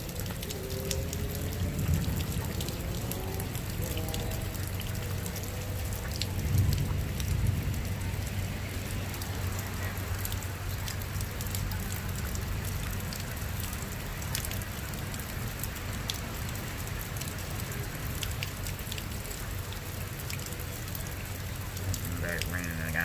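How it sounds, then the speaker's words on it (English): Rain falls steadily outdoors during a severe thunderstorm, a soft continuous patter with a low rumbling hum underneath, fairly faint and unbroken throughout. "It's raining again."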